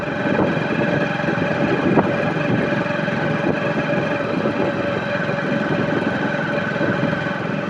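A motorbike engine runs steadily on a road, a loud, continuous drone with a constant hum and no break in pitch for the whole stretch, with no voices over it.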